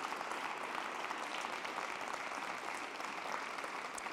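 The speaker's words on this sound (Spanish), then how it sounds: "Un aplauso para todos ellos." Sustained applause from an awards ceremony audience for smart and sustainable mobility, a steady dense wash of many hands clapping at moderate distance, even in level throughout with no talk over it.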